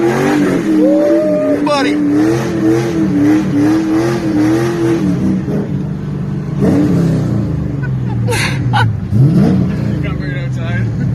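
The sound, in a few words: car engine accelerating in third gear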